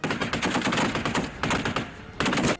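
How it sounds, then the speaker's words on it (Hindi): Rapid bursts of machine gun fire ring out during an army field exercise in an empty stretch of land, loud and close, with short pauses between the volleys and no talk. "एक के बाद एक इतनी गोलियां दागी गईं कि वीरान इलाका गोलियों की गड़गड़ाहट से गूंज उठा।"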